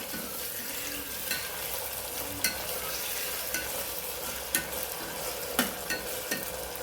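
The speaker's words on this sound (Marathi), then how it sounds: "ही मी अद्रक किसून घेतलं होतं ते पण ह्याच्यात टाकून द्यायचे आपल्याला आणि हे छान हलवून घ्यायचे बघा अशा पद्धतीने" Grated ginger being stirred into a moong dish in a pan, with a steady soft sizzle under repeated scraping strokes of a spoon, a few sharper clicks standing out, no talking.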